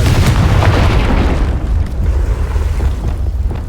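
Confringo fire spell blasting in a Harry Potter video game, a loud rumbling explosion with deep booming low end that fades into a lingering roar, no talk.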